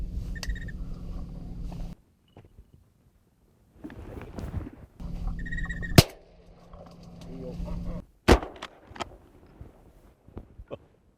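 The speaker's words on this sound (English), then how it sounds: "We shot at the exact same time again." Shotguns fired during a duck hunt at Seadrift: two sharp, loud blasts a couple of seconds apart, the second a near-simultaneous double, set against a steady outboard boat motor drone that cuts in and out.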